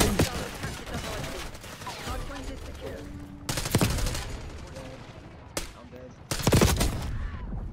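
Rapid automatic gunfire in Black Ops 6, loud and dense bursts that rattle on for seconds, broken by sharper, heavier shot clusters near the middle and the end.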